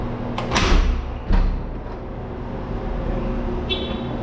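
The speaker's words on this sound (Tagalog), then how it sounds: "Buksan natin muna yung pintuan dito." A door in a partly finished rowhouse under renovation is opened with a pair of sharp clunks and rattles close by, followed by a low background hum and a faint clink.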